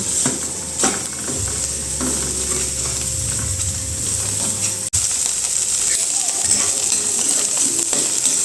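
Chopped onion fries in a pan as the first step of a home-cooked chicken feet dish, a steady close sizzle with occasional stirring scrapes and clinks, a brief break near the middle before the frying resumes.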